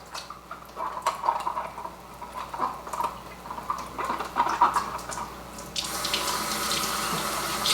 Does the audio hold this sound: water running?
yes